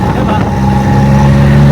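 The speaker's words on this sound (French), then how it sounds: "quand vous entendez du bruit comme ça, hein, c'est pas un gros moteur et tout, hein, non, c'est un tuk-tuk" Small tuk-tuk engine droning steadily while riding through Thailand on a windy day, loud and close, with a constant low hum.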